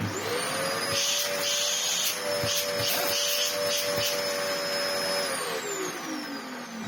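A Dyson DC04 upright vacuum cleaner runs with its wand removed, a steady loud motor whine and airflow roar holding for several seconds before the motor begins to wind down near the end.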